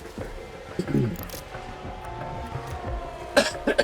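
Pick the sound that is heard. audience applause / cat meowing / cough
cough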